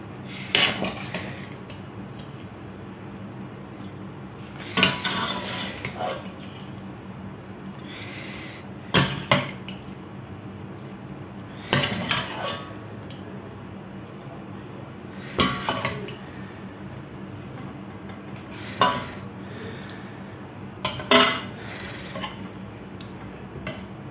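Pickle masala and garlic being mixed in a bowl, with a spoon clinking and scraping in repeated bursts every few seconds over a quiet background, no talking.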